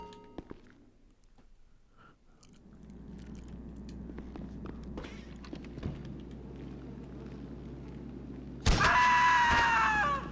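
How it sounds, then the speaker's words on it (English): A man's scream bursts out suddenly near the end of a stretch of quiet game ambience with faint thuds and shuffles, loud and harsh, heard in GTA 5 Online. "And nobody heard that dude scream."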